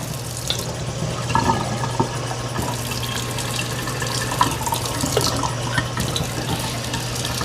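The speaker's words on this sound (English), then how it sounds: "So we're going to add in some just cold water." Steady cold water running from a tap filling a container, a continuous broadband rush with small splashes throughout, fairly close and moderately loud.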